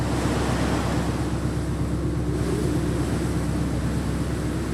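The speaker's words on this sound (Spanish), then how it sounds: "Las olas lo golpean y lo mueven de un lado a otro." Storm waves pound a ship out on the austral sea as a dense, continuous roar of surf and wind that holds steady and loud throughout.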